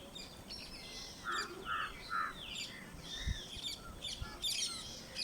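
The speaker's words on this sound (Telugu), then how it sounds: "వాటి అరుపు పెద్ద పెద్దగా ఉంటుందండి" A flock of winter migratory birds calls over harvested fields, giving loud, overlapping squawks and chirps in repeated bursts, with a few sharper cries standing out against steady outdoor background noise.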